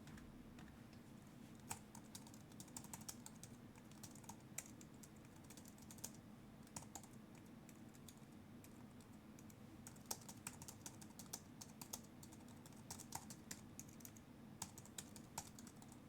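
Fast, uneven clicking of keys on a tiny portable computer keyboard, quiet and close, with steady bursts of taps running throughout and no talking.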